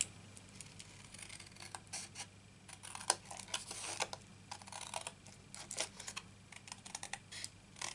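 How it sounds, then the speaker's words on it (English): Paper for a tissue box being cut along a score line, quick irregular snipping and rustling clicks, close and quiet against faint background hum. "cut up to the score line"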